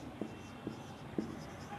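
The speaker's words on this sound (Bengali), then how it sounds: "তো চলো আমি আজকে লিখি" Three short, quiet scratches of writing on a surface, spaced about half a second apart, heard alone in a hushed room.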